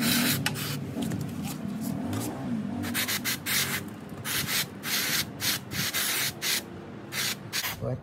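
Chain cleaner sprayed from a nozzle bottle onto a motorcycle chain, a series of close, harsh spray hisses, some long and some in short rapid bursts, loud and dominant throughout.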